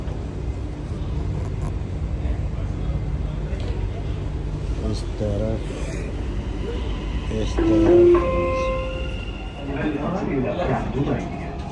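A Dubai metro train hums and rumbles as it gets under way, with a brief rising motor whine partway through while people talk nearby.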